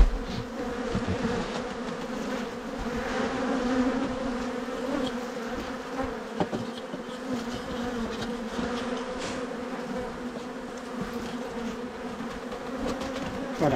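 A swarm of honey bees in an attic space, a dense, continuous droning buzz of many insects close by, steady in loudness with slight swells, and nobody speaking.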